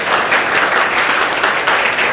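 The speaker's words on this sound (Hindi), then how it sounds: "इनके लिए ताली बजाइए, ताली बजाइए।" A class of students in a government school clapping together, a continuous fast patter of many hands at full volume throughout, heard alone without any talking.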